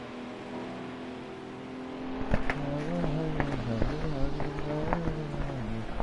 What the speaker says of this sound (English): Here he comes in your LMP car.